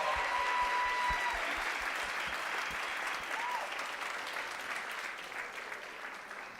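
Steady applause fills a hall at a National Honor Society induction ceremony, a moderately distant crowd clapping continuously and gradually tapering off toward the end.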